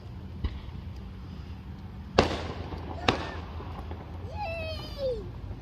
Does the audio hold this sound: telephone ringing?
no